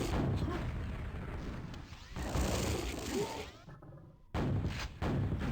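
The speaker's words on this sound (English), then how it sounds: "It's one of the particle explosions." Particle explosions in the video game Quake, heavy booming blasts in rapid sequence with a brief quieter gap before the rumbling bursts resume.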